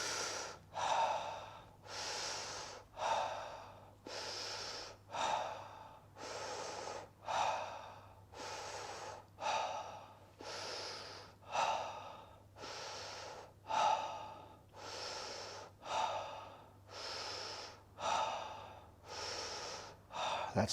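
Deep, rhythmic breathwork breaths repeat steadily, roughly ten full inhale-exhale cycles with long airy rushes rising and falling in an even pulse, close and alone with no talking.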